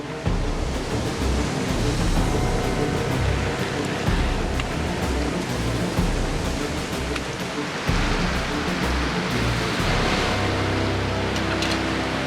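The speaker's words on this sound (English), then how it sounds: "big rollers rolling onto the reef there" Big ocean waves roll and crash onto a reef, a loud continuous roar of surf and rushing water with surges rising and falling, no voices.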